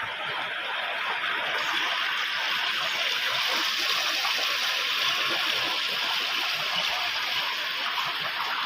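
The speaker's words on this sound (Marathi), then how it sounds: "तर ह्या बघा एवढं पाणी हा सीतावळात" A steady roar of water rushing down a stream after heavy rain, loud and close, continuous and unbroken throughout.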